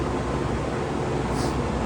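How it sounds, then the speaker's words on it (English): Steady, loud broadband whoosh of a fan blowing air, constant throughout with no variation in level. "sorry about the noise. I got the fan blowing to get this dust out of here."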